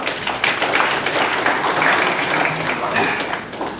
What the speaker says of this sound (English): Very big applause, round of applause for them.